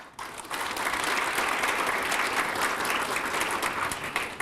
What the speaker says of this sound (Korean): 한 분 한 분 소개될 때마다 큰 박수로 맞아주시기 바랍니다